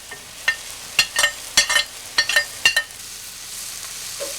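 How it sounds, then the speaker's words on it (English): Cabbage goes into caramelized sugar and browned onions in a pan, producing short bursts of sizzling and stirring that come in quick clusters, then settle into a soft, quiet hiss. "Now we add the cabbage."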